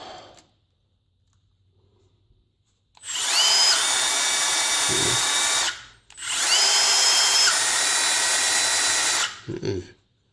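A Milwaukee M18 FUEL cordless drill spins up twice, each burst whirring loudly for nearly three seconds before stopping, with a short gap and a quick final rev at the end.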